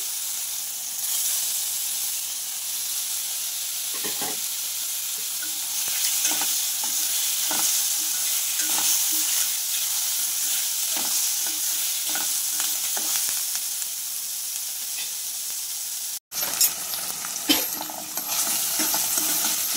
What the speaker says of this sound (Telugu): ఇప్పుడు మష్రూమ్స్ వేసి మంచిగా డీప్ ఫ్రై చేయాలి